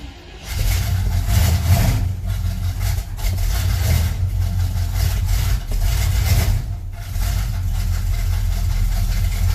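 A Chevrolet Monte Carlo engine catches after a cold start and settles into a loud, rough idle close by, with a deep uneven rumble and occasional dips that continues throughout.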